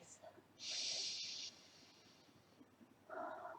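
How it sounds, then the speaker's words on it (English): Slow, deep breaths during a calm yoga practice: one long airy inhale, a quiet pause, then a softer, lower exhale starting near the end, all close and with no talking. "And just breathe."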